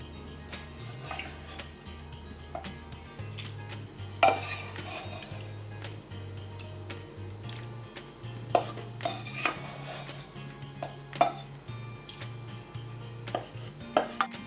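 Cracked wheat payasam simmering in milk is stirred in a pot, with steady low scraping and a few sharper clinks of the spoon against the vessel; no talk.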